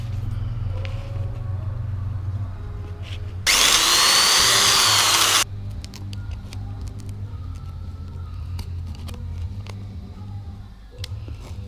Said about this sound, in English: cut out and drill out the holes that it describes